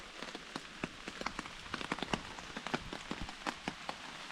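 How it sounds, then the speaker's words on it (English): Rain patters on a tarp over a trail camp, a dense, irregular run of sharp close drops tapping steadily throughout. "It's been raining for about 20 minutes, half an hour now."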